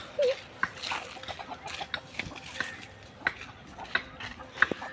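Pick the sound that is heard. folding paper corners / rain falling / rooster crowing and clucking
rooster crowing and clucking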